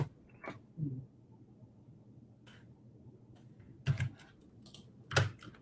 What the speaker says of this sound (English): Now, I can't see where you're typing.